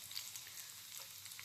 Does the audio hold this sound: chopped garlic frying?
yes